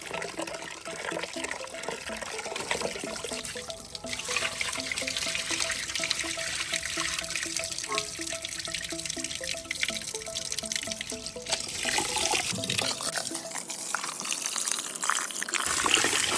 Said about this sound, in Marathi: असं चांगलं स्वच्छ धुवून घ्यायचे तांदूळ.